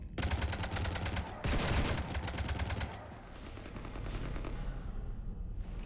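Rapid automatic gunfire in the Mass Effect 3 video game as a ship is shot up, loud sustained bursts of rattling shots that thin into a rumbling background after a few seconds.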